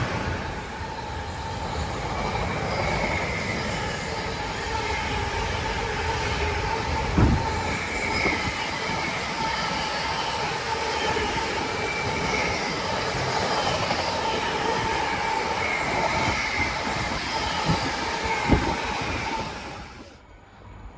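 A late-running Trafford Park to London Gateway freight train behind class 66 locomotive 66507 rolls through Tamworth station, a loud, continuous rumble of wagons with rhythmic wheel clatter and a faint squeal, fading out at the end.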